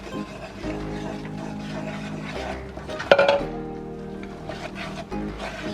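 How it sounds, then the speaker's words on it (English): A whisk stirs flour into a roux for seafood gumbo in a pot, soft scraping with light metallic clinks against the pan and one sharper clank midway, close and fairly quiet. "2 cups of flour. I'm just going to gently whisk in."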